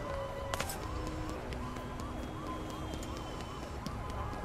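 An ambulance siren in the video game Psychonauts 2 wails in repeating rising and falling sweeps, moderately loud and steady, with a brief sharp clatter near the start and a low rumbling bed underneath.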